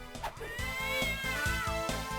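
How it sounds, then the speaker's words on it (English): Cat meowing in the Nintendo DS game Castlevania: Dawn of Sorrow, one drawn-out, rising and falling meow over a pulsing game music loop, clear and fairly loud with no talking. "I want to be able to just throw cats at people."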